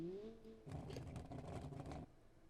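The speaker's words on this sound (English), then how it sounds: "let me just push down on the pedal here, we'll rev it up" In the BeamNG.drive driving game, a car engine is revved in a brief rough burst, its tone holding steady before the throttle opens, then dropping off; quiet overall.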